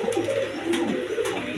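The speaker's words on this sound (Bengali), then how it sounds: "এইখানে এক পেয়ার রেড কালার গররা কবুতর আছে" A pair of red Gola pigeons, both females, coo close by in a series of soft, throaty rolling calls, with no talking over them.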